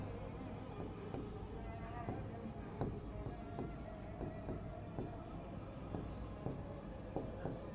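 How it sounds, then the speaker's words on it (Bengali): Notes written by hand during a biology lesson on tooth dentin and enamel; steady scratchy pen strokes run throughout under a voice talking. "এটা আমরা লিখে ফেলি।"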